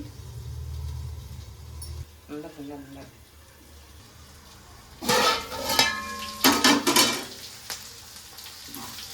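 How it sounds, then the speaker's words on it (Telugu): Fresh mint is stirred into a sizzling pan of Sunday-special boti fry, a spoon scraping and clattering against the metal before a lid goes on with a clank, while someone talks throughout. "పుదీనా వేసి కలుపుకొని పచ్చివాసన అయ్యేంత వరకు 1 నిమిషం మూత పెట్టేసి"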